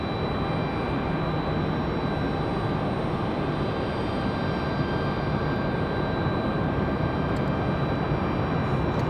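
Delta airliner coming in to land on runway 32 at Raleigh-Durham International Airport, a steady broadband jet roar at moderate distance that holds evenly throughout with no talk.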